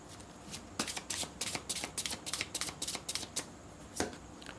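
A tarot deck is shuffled in a run of about a dozen crisp, rapid riffles and flicks, close and clear, with a final louder snap near the end and no voices.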